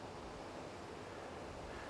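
Waves surge and break at Castlepoint beach, New Zealand, a steady, dense roar of surf with wind noise blending in, continuous and fairly distant, with no voices.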